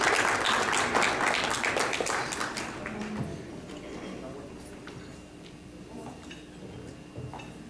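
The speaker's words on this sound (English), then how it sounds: "Mr. Daniels, give him a round of applause." Audience applause at an honoree presentation evening, a dense burst of clapping that fades over several seconds into room murmur with scattered claps.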